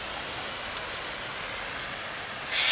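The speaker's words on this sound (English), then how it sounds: "Hello from rainy Italy." Steady rain falls during a sudden summer storm in Bologna, Italy: a continuous dense hiss that swells louder near the end, with no voices.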